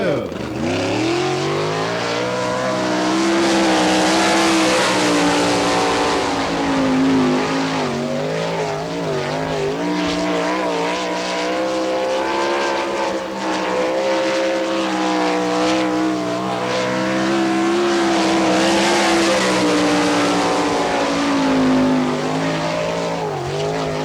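The number 92 race car runs a lap on a dirt track at an All Stars NCRA event in Wichita, Kansas, in 1998, its engine roaring loud and continuous with a pitch that rises and falls through the corners.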